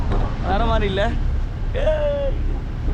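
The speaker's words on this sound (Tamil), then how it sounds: "செம்மையாக காற்றடிக்குது" Strong wind blowing across a ferry boat in Kochi, a constant low buffeting rumble on the microphone beneath someone talking.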